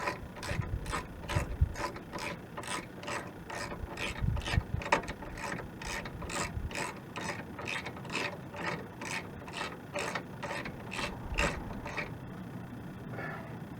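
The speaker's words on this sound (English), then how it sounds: "grab my ratchet here, whatever I may have done with it, and put that on tighten" A hand ratchet tightens T55 caliper bolts on a 1997 Chevy Blazer's front brake, producing a rapid, even run of close clicking pawl sounds that continues steadily throughout.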